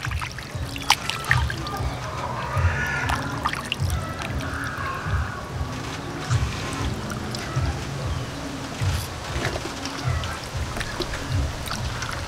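Tap water runs and splashes steadily over skinned chicken necks being washed by hand in a kitchen, a continuous close trickle broken by irregular clicks and knocks of handling.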